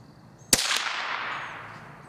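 A single sharp rifle shot fired with CCI Mini Mag ammunition during 50-yard group shooting, a loud close crack followed by a long fading outdoor echo and near silence.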